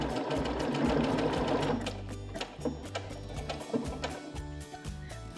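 Baby Lock Jubilant sewing machine stitching decorative cross stitches, a close, busy mechanical whir that shifts after about two seconds into a rhythmic ticking of needle strokes, with no talk.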